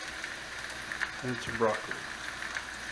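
A low, steady sizzle of pork chops browning in a cast iron chicken fryer, with a speaking voice briefly over the top.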